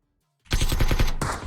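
Rapid automatic gunfire aimed at a player in a PUBG esports match on the Miramar map, a loud burst of closely spaced shots that starts suddenly, runs steadily, then pauses briefly before a final crack.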